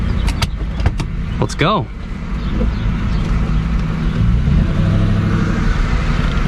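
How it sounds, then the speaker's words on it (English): A stock exhaust on an SN95 Mustang Cobra rumbles steadily at idle from inside the car, with short talk and a brief whistle-like sweep early on over the continuous low engine drone. "For a stock exhaust that actually rumbles pretty nicely, I like it."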